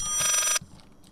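A telephone rings in the video game Layers of Fear, a single loud bright electronic trill that cuts off abruptly, followed by quiet.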